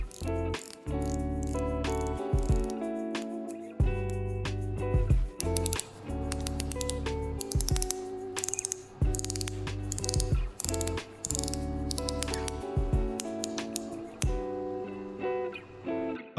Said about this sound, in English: the bezel action feels quite soft, but with affirmative clicks and also some backplay at the end there